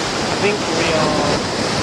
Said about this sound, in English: That was a big wave.